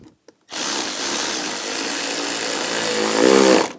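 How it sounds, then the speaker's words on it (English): Loud, close whirring burst from a power tool driving down a hose clamp on a snorkel tube during a valve cover job on a 2014-2018 GMC Sierra 1500 5.3L V8, running steadily for about three seconds after a couple of clicks, then stopping. "we'll tighten down the clamp and tighten this down"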